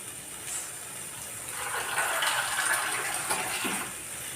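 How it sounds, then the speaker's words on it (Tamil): Water poured into a pan of chana masala to cook it: a soft, rising splash and pour that swells midway and holds for a couple of seconds, close by and without speech. "இதில் இப்போ கொஞ்சம் தண்ணி ஊற்றிக்குவோம் நம்ம வேக வைக்கிறதுக்காக."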